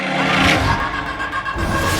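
A car pulls away nearby, its engine rising in a brief smooth rush of revving with steady road noise and no talk.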